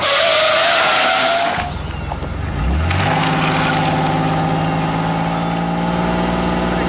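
A car speeds along with loud, sustained tire skidding, then drops into a steady engine drone with a rising whine, all close and with no talking.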